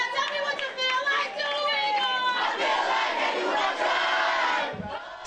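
Crowd cheering and shouting at a Community Coalition 25th anniversary celebration in South LA, a loud, sustained mass of voices and yells that swells and holds before fading at the end.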